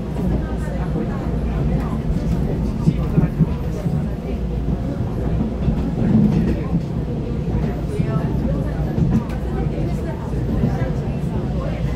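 EMU3000 twelve-car electric intercity train running on rails in Taiwan, a loud continuous low rumble and rolling drone throughout, with voices talking over it.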